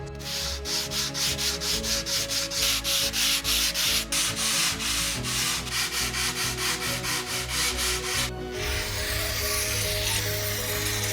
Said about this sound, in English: Time for hand sanding.